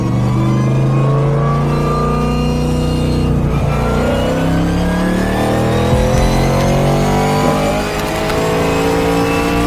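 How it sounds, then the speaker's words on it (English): A 700+ hp hot rod roars loudly and continuously as it accelerates, its engine pitch climbing steadily through the gears for nearly ten seconds, heard up close with no voices. "damn how she accelerates!"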